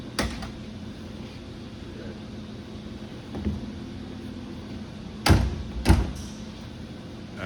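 A classic car's door, the car mounted on a rotisserie in a workshop, shuts with two solid thuds in quick succession over a steady background hum.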